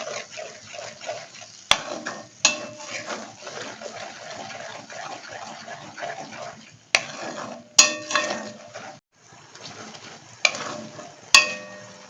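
Whisked curd being stirred quickly into okra in a hot pan: a close, soft sizzle with repeated scraping stir strokes and sharp clatters of the spoon against the pan at irregular intervals.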